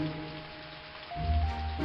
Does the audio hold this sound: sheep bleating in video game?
no